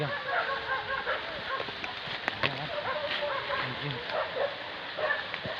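Several hunting dogs bark and yip excitedly outdoors during a wild boar hunt in West Sumatra, overlapping in irregular bursts amid people talking.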